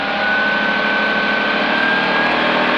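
A small training airplane's engine runs at full throttle on the takeoff roll, a loud, steady, droning roar heard close from inside the cabin, with no voices.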